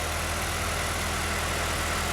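A car engine idles steadily with a regular shop rag pushed into the exhaust to expose leaks, a loud, close, continuous rumble with hissing exhaust noise and no talking.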